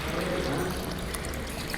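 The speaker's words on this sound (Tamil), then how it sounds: "தண்ணி சர்வ் பண்ணியிருக்கோம்." Water is poured steadily for serving at a restaurant table, a continuous close splashing stream that fills the whole moment with no pause.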